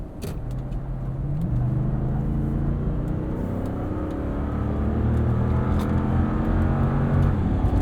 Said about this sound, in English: there's a little bit more power here in the GX 460, and it presents itself right there when we're both wide open throttle on that entrance ramp